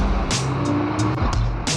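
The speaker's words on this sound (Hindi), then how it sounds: "कितना शोर है यहाँ पे, मतलब गाड़ियों का शोर" Road traffic streams past nearby, with a steady low rumble of engines and occasional brighter whooshes and hisses from passing vehicles, fairly loud and continuous.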